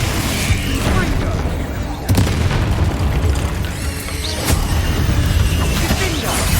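A Confringo spell explosion in the video game Hogwarts Legacy, heavy booming blasts over a dense, continuous roar of combat effects, loud and close, with sharp bursts near the start and midway.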